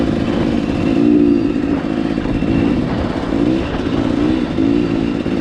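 A dirt bike motorcycle rides along a bumpy trail, its engine droning steadily and loud up close, with the pitch wavering as it bounces and revs over rough ground.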